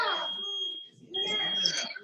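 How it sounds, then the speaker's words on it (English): A home smoke alarm sounds a steady high-pitched electronic tone during an online team call, faint and continuous beneath a person talking. "my smoke alarm is going off"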